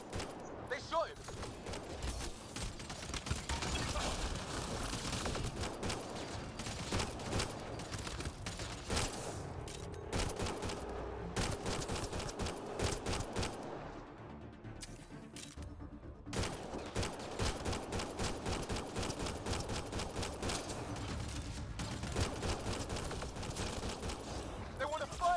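Bursts of rapid gunfire crackle through a Mass Effect Andromeda firefight, dense volleys with a brief lull midway, under excited voices.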